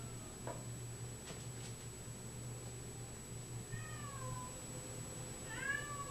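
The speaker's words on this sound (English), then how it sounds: "Here's another scaredy cat." At an animal shelter, a shy cat gives a few soft, faint meows late in the moment, two short calls heard over a quiet background hum.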